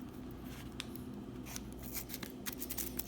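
Scissors cutting into the plastic wrapping of a baseball card mystery pack, faint crackly snips and crinkles repeating over a low steady hum, close but quiet, with no speech.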